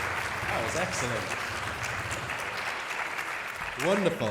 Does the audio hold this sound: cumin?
no